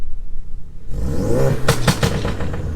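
With the XForce Varex exhaust valves open, a Ford Focus RS blips its engine into a loud, raspy rev with a crackling burst of pops as it falls back, close and aggressive after a quiet idle.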